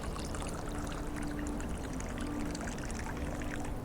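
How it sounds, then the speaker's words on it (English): Water poured into a goblet, a steady soft trickling and splashing that runs unbroken and fairly close, with no voices over it. "He paused just for a moment to refill his goblet of water and took a mild sip."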